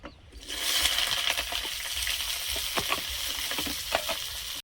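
Eggplant fries in a pan with neem leaves: a loud, continuous sizzle with scattered spatula scrapes and clinks against the pan, close by and with no talking.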